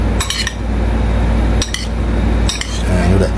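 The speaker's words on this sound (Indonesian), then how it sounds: "Oke, dan aduk ya teman-teman, biar tercampur rata." Spoon stirring sambal dabu-dabu in a bowl, with three bright clinking scrapes against the bowl spaced over a low steady background and no voices.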